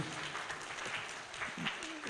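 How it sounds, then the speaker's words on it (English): Applause for a speaker at a live-streamed national enterprise development event, a steady wash of clapping from an audience, moderately distant and continuous throughout. "Please a round of applause for Waziri."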